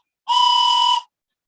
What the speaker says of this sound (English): Is that a train whistle?